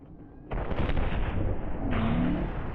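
A loud sniper rifle shot in Call of Duty: Black Ops 1 on PC, a sudden close blast followed by a long rumbling tail, then a second report overlapping the decay.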